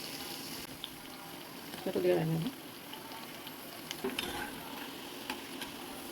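Flattened rice (poha) patties fry in a pan until golden brown, a soft continuous sizzle with a brief bubbling burst and a few faint scrapes.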